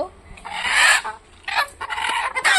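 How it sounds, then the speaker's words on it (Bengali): Loud, raspy squawks and clucks from a desi chicken held up close, coming in several agitated bursts. "আরেক মুরগি"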